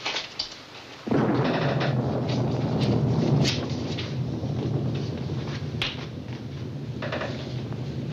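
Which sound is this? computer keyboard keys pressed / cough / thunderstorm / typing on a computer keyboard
thunderstorm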